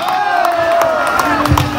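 A crowd at a village fair, Feria Telchac Pueblo, applauds and cheers in a continuous loud wash of claps and shouts, with tonal whistles or music running through it.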